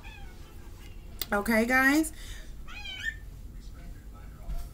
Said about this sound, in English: Sorry about my cats, guys.